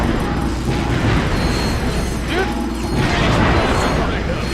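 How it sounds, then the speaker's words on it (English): A Mega Tetra Bomb goes off in Ratchet & Clank: Going Commando, a dense, loud blast with crashing debris and rumbling low end that keeps booming across the whole stretch, with game action and mechanical clatter layered in. "I should use the Mega Tetra Bomb"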